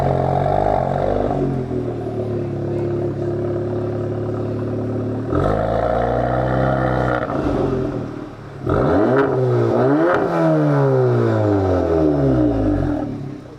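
A Volkswagen Golf R fitted with an IE exhaust revs outside, the engine climbing and falling through several loud blips and sustained pulls, with a deep exhaust note close to the listener.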